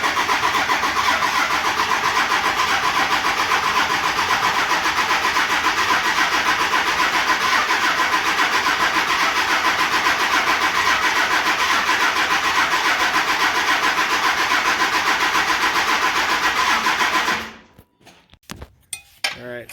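A 12-valve engine cranks after its fuel lines are primed, a loud continuous starter-and-engine churn lasting most of the clip, then cutting off into a few scattered knocks and clatter near the end.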